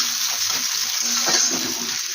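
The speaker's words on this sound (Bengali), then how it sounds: "এখানে পেঁয়াজটা তেলের মধ্যে ছেড়ে দিয়েছি ভাজার জন্য" Onion frying in hot oil in a home kitchen. A close, loud, continuous sizzle sounds alone with a few stirring scrapes through the short stretch.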